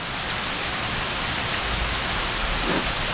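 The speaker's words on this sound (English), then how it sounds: "We haven't been able to see the lightning yet, but the thunder tells us there's been plenty of it." Thunderstorm in the woods, with steady heavy rain hissing on surfaces throughout and a low rumble of thunder rising in the second half, no voices.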